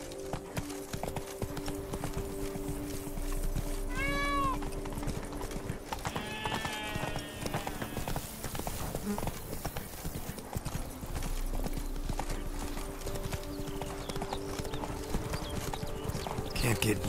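Roach, the horse in The Witcher 3: Blood and Wine, clip-clops in a steady rhythm of close hoofbeats throughout, mixed under background music with a brief whinny.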